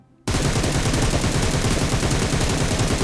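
Sustained automatic rifle fire sprays in PUBG Mobile, starting abruptly after a brief quiet moment and continuing as a rapid, loud, unbroken burst of shots for about three seconds, with no talking.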